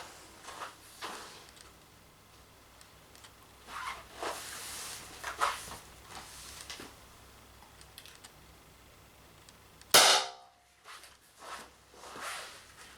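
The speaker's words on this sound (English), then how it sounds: "Let's see if I can use my normal trigger finger for pulling the trigger." A Beeman BP50 air pistol fires a coated steel ball, making a single sharp crack late on after a stretch of faint handling noises and quiet clicks.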